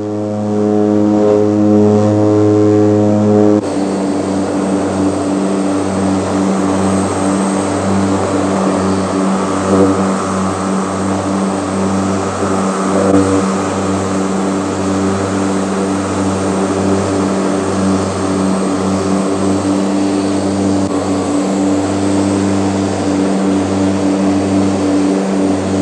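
Military transport aircraft passing overhead in a formation flying display, a loud continuous propeller drone with strong low tones that shifts pitch after a few seconds and holds steady throughout.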